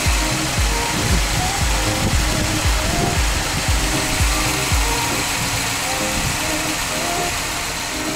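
A 2011 Jeep Grand Cherokee engine idles steadily up close with an even, low rhythmic throb and a faint mechanical hum, and no one talking over it.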